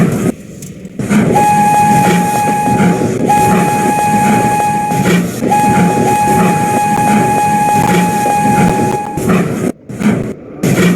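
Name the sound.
train running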